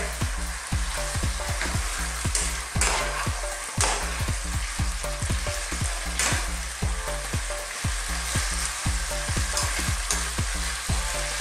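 Fried fish, bitter melon and spring onion are stirred in a hot pan, a constant bright sizzle cut by rapid, regular scraping strokes of a utensil against the pan, close and fairly loud, with no talking.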